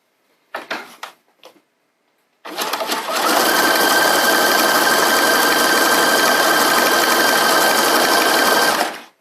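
A sewing machine stitches elastic onto pajama pants, starting after a couple of short handling knocks and then running as a loud, steady, continuous mechanical whir close by until it stops near the end.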